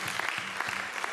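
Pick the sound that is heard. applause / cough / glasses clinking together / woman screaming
applause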